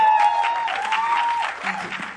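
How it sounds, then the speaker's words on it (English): An audience at a film trailer launch event gives a short burst of clapping and cheering that tapers off over about two seconds, with a sustained tonal sound and some voices mixed in. "Big round of applause for her."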